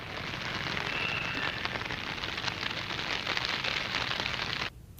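Heavy rain falls steadily in Valsad as a dense, constant hiss of drops on surfaces that cuts off abruptly near the end.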